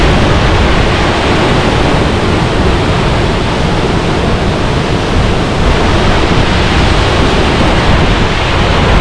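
Small waterfall in Iceland, a loud, continuous broadband rush of falling water that stays steady and close throughout, with no voices.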